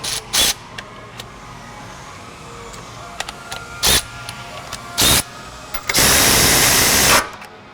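An impact gun snugs up the sport cat exhaust bolts on a 2018 Maserati Levante V8 in several short close bursts, with brief rattles and clicks between them and a longer final buzzing run near the end.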